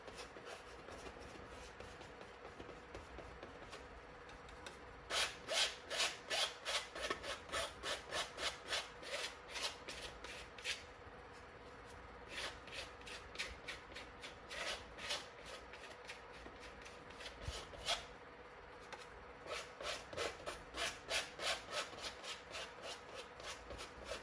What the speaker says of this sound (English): just put in this color onto the canvas and just scraping it in